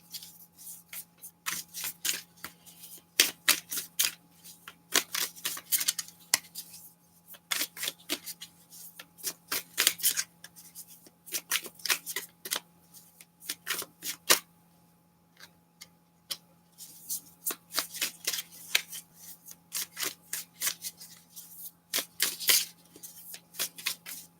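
Repeated bursts of stiff tarot cards being shuffled, crisp riffling and flicking in short clusters with brief pauses, close up and no talking.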